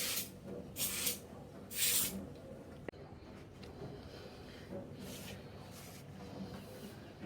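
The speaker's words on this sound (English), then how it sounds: "So I'm gonna spray." Cooking spray hisses onto a pan for blueberry muffins in three short, close bursts, followed by quieter background noise and a few fainter sprays later.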